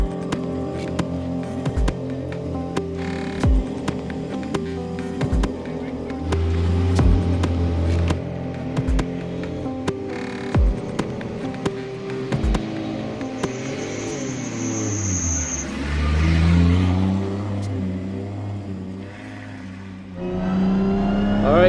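A Nissan 180SX driven on a wet track, its engine revving and rumbling close by with repeated rises and drops in pitch as it accelerates and shifts, continuous throughout.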